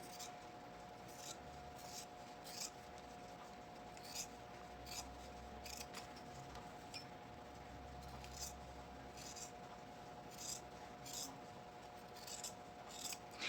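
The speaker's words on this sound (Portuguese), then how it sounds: "Eu corto aqui uma tirinha." Scissors snip through a strip of synthetic leather for a school pencil case's zipper pull, giving a series of short, close, crisp cuts over a steady low hum.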